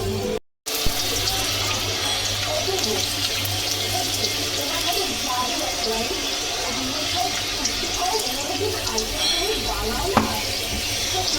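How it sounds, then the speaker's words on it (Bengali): Chili fritters bubble steadily in hot white oil in a kadai, a continuous watery sizzle with a few soft clinks, near and moderately loud. "লঙ্কার পকোড়া ফুটছে।"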